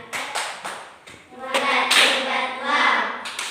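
Classroom clapping chant in an Indonesian primary science lesson, a burst of sharp claps repeated in rhythm with students' voices calling out together, fairly loud and close.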